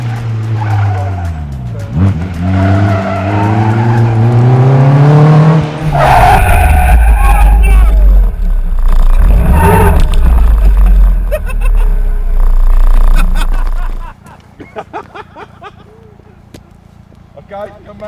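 A car in a gymkhana training race drifts through a course, its engine revving and tyres squealing loudly in long sweeping skids, close and dominant before cutting off abruptly into quieter background noise.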